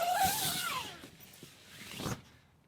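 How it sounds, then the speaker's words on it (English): A zipper runs along the front of a beach tent with a quiet, close ripping slide and a couple of short catches near the end. "zip up the front and see how good the zipper is"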